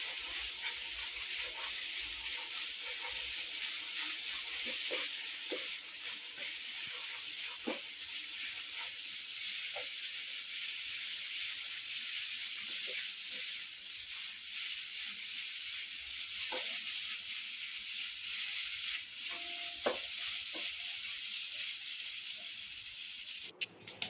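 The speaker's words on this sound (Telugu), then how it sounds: "ఇప్పుడు దీన్ని కూడా ఒకసారి బాగా కలుపుకుందాం." Egg noodles fry in a pan, street style, with a steady hiss and sizzle throughout. Faint scraping ticks come as they are stirred, and no voices are heard.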